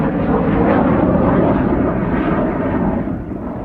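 Sukhoi Su-25 Frogfoot jet aircraft flying, a loud broad roaring rush that swells slightly then begins to fade toward the end, with no voices.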